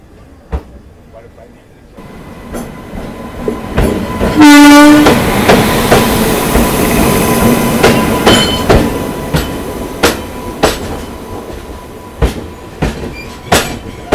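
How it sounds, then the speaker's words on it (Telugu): Bidar Express passing through a station, its loud horn blaring once near the start, followed by a rising rumble of passing coaches with sharp repeated wheel clacks and thumps at rail joints. "బీదర్ ఎక్స్ప్రెస్ని ముందుగా తీసుకోవడం జరుగుతుంది"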